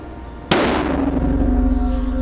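A single sharp, loud G98 rifle shot cracks out at a 300 m range, followed by a long ringing echo that slowly fades.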